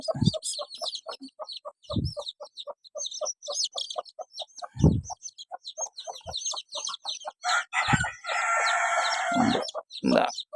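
White hen with her newly hatched chicks, dense rapid peeping from many chicks with occasional louder hen clucks, close and continuous.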